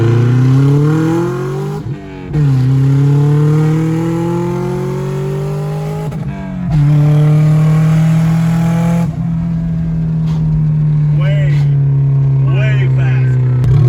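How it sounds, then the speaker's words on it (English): A turbocharged, otherwise stock Subaru accelerates hard from a rolling start in a 0 to 60 run, its engine climbing steadily in pitch through loud gear pulls with brief shift dips, close and dominant, with voices heard faintly. "It's officially time for the 0 to 60."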